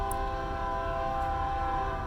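Train passing close to a station beside a burger grill in Chesterton, Indiana, a steady low rumble with sustained horn-like tones held level throughout, loud and continuous with no talk.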